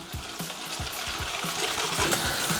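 Liquid being poured into eggs while they are whisked for a vanilla sauce, with a steady wet pouring wash and a regular rhythm of whisk strokes against the bowl, close and moderately loud.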